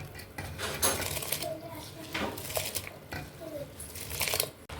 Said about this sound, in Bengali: আমার জলটা ফুটে গেছে, এবার আমি এতে চালগুলো দিয়ে দেবো।